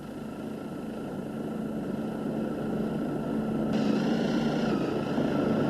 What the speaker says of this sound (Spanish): un helicóptero se posa en la cubierta del barco